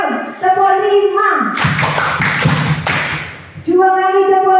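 A group of people clap a rhythmic five-clap pattern together, a short burst of loud claps lasting about two seconds between stretches of speech.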